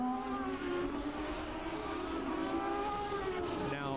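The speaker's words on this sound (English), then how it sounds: "That turbocharger kicks in." A turbocharged race car at the 2004 Monterrey Grand Prix accelerates hard, its engine note rising in a loud, sustained whine that climbs in pitch, with no talk over it.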